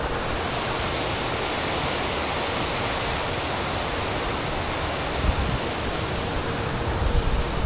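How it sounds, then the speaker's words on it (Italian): Water cascading over rapids along a mountain river in the valley below Valles gives a steady, loud rushing roar that fills the whole stretch without pause, with no voices over it. "Guarda che salti dell'acqua."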